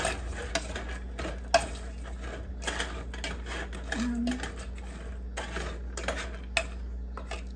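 A jackfruit dish with raisins is tossed and stirred in a pan, giving scattered metallic clinks and scrapes of utensil on cookware over a low steady hum, with a person talking intermittently between the knocks.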